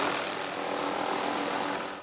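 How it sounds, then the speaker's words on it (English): Helicopters flying low over elephant family groups during a relocation from Majete Wildlife Reserve in southern Malawi, a steady broadband rotor and engine roar that holds loud and even, then eases slightly at the end, with no voices. "Helicopters head the family groups and then shoot them with tranquilizer darts"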